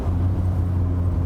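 Rocketeer restomod Mazda MX-5 roadster engine droning steadily with a low, even note, heard close and alone in a short burst.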